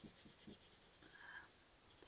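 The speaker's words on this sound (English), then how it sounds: "I still have to be careful with my pressure with these pencils." Colored pencil shading on paper in short, rhythmic back-and-forth scratching strokes, very faint and close, followed by a slower, smoother stroke with no talk.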